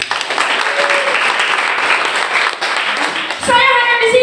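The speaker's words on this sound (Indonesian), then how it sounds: "Tepuk tangan untuk kami." A church congregation applauds during a sermon, steady close clapping filling the space for about three and a half seconds before the pastor's voice returns over it.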